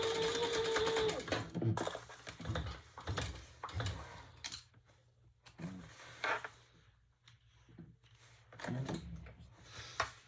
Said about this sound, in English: we're going to sew that together